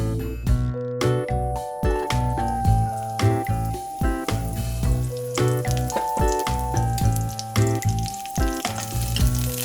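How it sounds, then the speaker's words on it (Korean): Oil sizzles steadily in a heated wok-style pan as scallions fry to make scallion oil for spicy stir-fried octopus, a close, continuous crackle heard alongside prominent tonal music throughout. "달군 궁중팬에 기름을 두르고 파기름을 내주세요."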